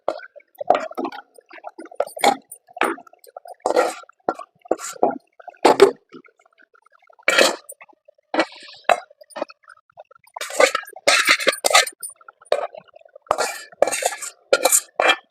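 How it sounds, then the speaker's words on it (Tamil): Sautéed tomato and onion tipped into a pot of boiling curry and stirred, with close spoon scrapes, plops and wet squishing in irregular bursts separated by quiet pauses. "இப்போ இந்த டைம்ல வதங்கினதை அதில் போட்டுக்கலாம்."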